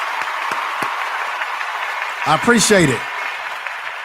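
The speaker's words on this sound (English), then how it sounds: "A clap to you, brother." Continuous dense clapping fills the clip, steady and close, while someone speaks briefly over it near the end.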